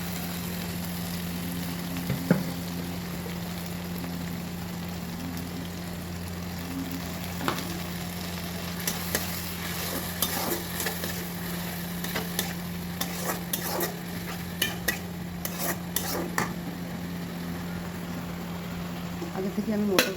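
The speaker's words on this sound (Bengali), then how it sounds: "মশলাটাকে ভালো করে কষিয়ে নেব।" Spice paste fries in a pan with a constant sizzle while a utensil scrapes and stirs in irregular bursts, close by, with a steady low hum underneath.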